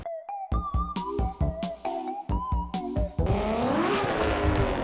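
A car drifts in the racing game Assetto Corsa: a quick series of engine revs and gear shifts builds into a sustained, loud tire squeal as the car slides.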